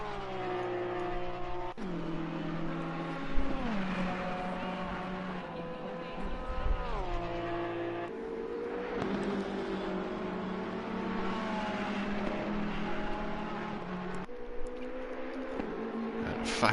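Ferrari race car circuit racing at Monza in the FRL Racing Series, a sustained engine drone with shifting tones rising and falling through gear changes and passes, under steady commentary.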